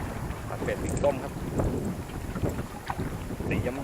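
Strong wind blows across a reservoir while bass fishing, buffeting the microphone with a continuous rough roar and gusty rumble, steady and close throughout.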